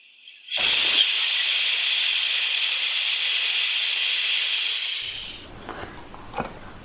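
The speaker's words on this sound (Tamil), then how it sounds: "ப்ரெஷர் ரிலீஸ் ஆயிடுச்சு." A pressure cooker holding mutton stew releases steam in one loud, continuous hiss that starts abruptly, holds steady for about five seconds, then cuts off, leaving faint clinks behind.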